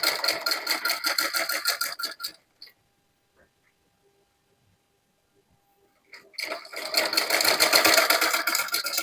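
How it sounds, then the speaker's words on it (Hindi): A sewing machine stitches a kurti seam in two quick rattling runs separated by a few seconds of near silence, fairly close and moderately loud. "अपनी पूरी सिलाई को कंप्लीट कर लेंगे"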